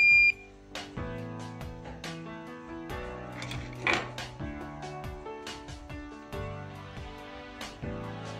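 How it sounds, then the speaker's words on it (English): A short, high electronic beep from a DIY 3D printer controller board powering on sounds once at the very start, followed by steady musical tones with no speech. "Test again, beep sound and the board is alive."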